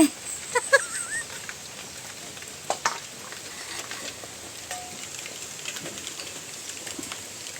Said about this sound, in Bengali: ঘরের মধ্যে লুচিগুলো এবার ভেজে নেই কড়াইতে